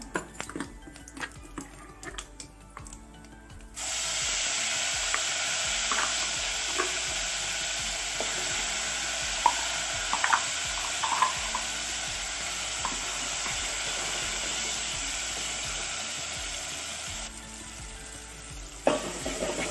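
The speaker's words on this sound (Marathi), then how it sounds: "अशा प्रकारे मसाला एकदम चांगला परतून घ्यायचा आहे आपल्याला" Masala made with raw coconut and garlic sizzles and fries in hot oil in a pan, a steady close crackle with occasional stirring scrapes, starting after a brief quieter lead-in and dropping away at the end.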